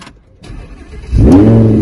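A sports car engine cranks and fires up, then settles into a loud, steady rumbling idle with a rising rev, close by and with no talking over it.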